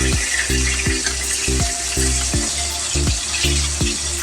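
Katla fish pieces frying in oil in a pan, a dense steady sizzle with a rhythmic low thumping pulse repeating about twice per second underneath, close and continuous.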